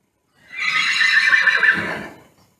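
A horse whinnies from its stall, one loud, clear, drawn-out neigh lasting about two seconds, close by and with no talk over it.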